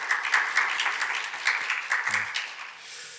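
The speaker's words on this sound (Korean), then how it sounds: "박수로 환영해 주십시오" A church congregation claps to welcome a new staff member, a lively, fairly close patter of many hands that eases off toward the end.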